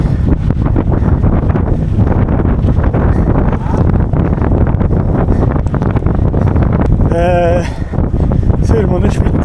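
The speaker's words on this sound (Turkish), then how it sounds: "Rüzgar efsane." Strong wind buffeting a microphone during a bicycle race climb in Istanbul, a loud continuous roaring rumble with gusty surges, a brief whistling tone near the end, and faint talk underneath.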